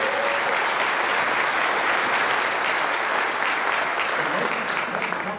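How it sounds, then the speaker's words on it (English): Audience applause at a press conference, a dense sustained burst of clapping from a large crowd that holds steady and tapers slightly toward the end. "I want to give her one more round of applause"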